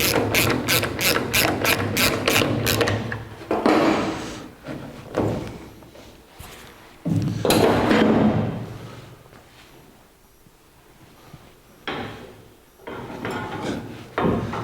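Metal latch on a 1982 Jeep CJ7 rear tire carrier being adjusted and swung, giving a rapid run of ratcheting clicks at the start, then scattered clanks and mechanical rattles, loud and close, with quieter pauses between bursts.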